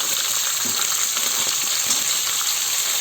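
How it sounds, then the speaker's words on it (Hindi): Mixed vegetables with tomato fry over high flame, a loud, even wash of hissing sizzle with faint stirring underneath and no pauses. "और फिर इसको फ्राई करना है 3 से 4 मिनट के लिए हाई फ्लेम में"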